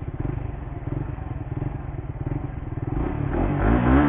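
A 2020 Suzuki GSX-R150 motorcycle engine pulses steadily at a low idle-like throttle, then swells into a louder rev during a wheelie attempt, close and continuous with some rattle.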